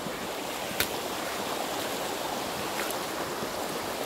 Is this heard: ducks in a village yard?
no